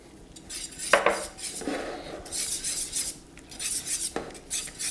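Metal spoon scraping and clinking against a pot as herb-and-shallot Boursin cheese is stirred into thick four-cheese macaroni and cheese, a few sharp scrapes and knocks with soft, sticky stirring between, close and fairly quiet.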